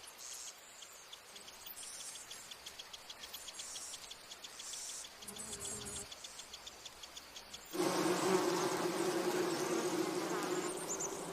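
Honeybees swarm around their hive in a Japanese garden, a steady close buzzing that grows louder and denser partway through.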